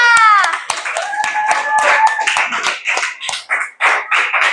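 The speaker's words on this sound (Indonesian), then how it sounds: "Oke, tepuk tangan dong buat kelompok 2." Students in a classroom clap for group 2 in a steady burst of hand claps with voices mixed in, a voice rising over the first second.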